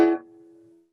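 Keyboard sounds a dominant seventh chord with an added ninth on top, a single struck chord that decays quickly into a thin sustained tone and fades out within a second.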